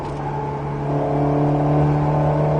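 An Alpine A110S accelerates on the Nogaro circuit, its engine note climbing steadily in pitch and growing louder as it pulls, a sustained whirring rev with no voices over it.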